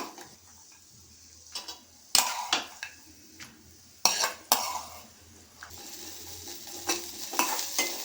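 Chillies fry in a pan with a soft sizzle, broken by several sharp scrapes and clatters of a spatula against the metal, irregular and close, without talk.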